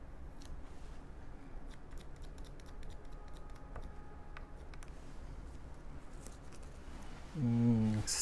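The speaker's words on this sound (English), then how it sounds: "Gonna remove this tape here." Tape peels away from the body of a Harley Benton SC 550 II electric guitar during a repair, giving faint crackly ticks and small snaps over a quiet room, with a brief louder tonal sound at the end.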